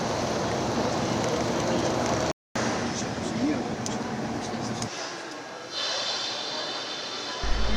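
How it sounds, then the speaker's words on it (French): Broadband roar of a Sri Lankan airline passenger airplane's engines, steady and loud, with a brief dropout and a quieter stretch near the end. "L'avion qui va nous emmener aux Maldives."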